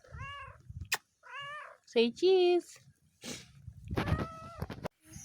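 A cat meows repeatedly at close range in a home, with harmonic, drawn-out cries, while a person talks in between and over the meows.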